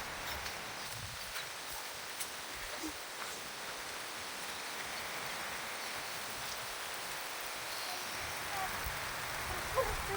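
Rain falls steadily outdoors as a soft, even patter with faint scattered drops, low and continuous throughout, with no voices.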